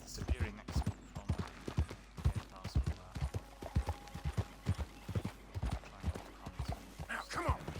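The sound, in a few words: horse hooves clip-clopping in video game Red Dead Redemption 2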